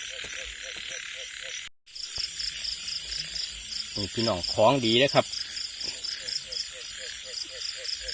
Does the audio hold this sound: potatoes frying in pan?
no